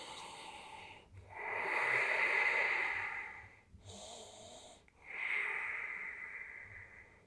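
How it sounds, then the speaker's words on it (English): Slow, deep breaths during an intermediate yoga forward stretch, two long airy exhalations separated by a short pause, close and fairly loud with no talking. "And breathing."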